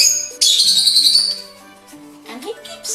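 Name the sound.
pet bird chirping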